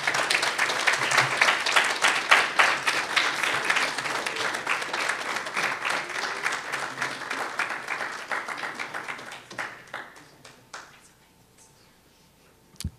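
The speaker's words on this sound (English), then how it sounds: "Another round of applause for Geffrey Davis, Arisa White, and Don Lundy Martin." Sustained audience applause at a poetry reading honoring poets Geffrey Davis, Arisa White and Dawn Lundy Martin, dense and steady for about nine seconds before thinning into scattered claps and fading to near silence.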